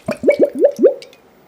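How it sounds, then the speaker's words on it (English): A gurgle pot glugs as water is poured from it onto a plant, giving five quick, close, loud gurgling bubbles in a rapid series that fades out. "every time you lift it back up, it makes this wonderful gurgling sound"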